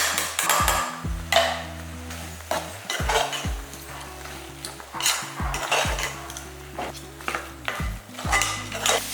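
Drumstick pieces are sautéed with spice powders in a pan for soup, giving repeated close clanks and scrapes of a metal spoon against the pan over a faint sizzle, with no talk.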